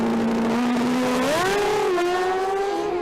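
A pro drag racing motorcycle of around 400 horsepower revs loudly and steadily, its engine pitch climbing in a couple of stepped rises as it accelerates, with no voices over the sound.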